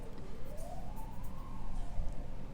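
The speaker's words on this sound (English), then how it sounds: "here come the sirens again with Archangel Michael" A siren wails faintly in the distance, its pitch rising and falling in a slow sweep over low background rumble.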